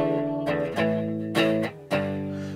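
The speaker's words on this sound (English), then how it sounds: "pretty simple, kind of clean Fender sound, something that you might hear from like a hot rod" An electric guitar through an Egnater Tweaker 15 amp set for a clean Fender-style tone strums four separate chords, each ringing out and decaying before the next, with no voice over it.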